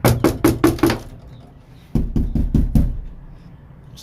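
Two bursts of quick knocking on a dull, solid, foam-insulated Peterbilt 379 truck door, about five raps each with a pause between, close and muffled.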